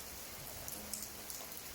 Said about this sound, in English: So it's raining really fast.